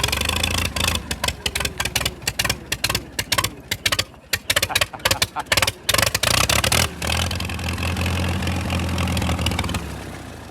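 A Massey Harris 44 tractor engine running on choke at its first start of the year, a loud, close, uneven chugging that stumbles and surges for several seconds, then settles into a steadier rough idle.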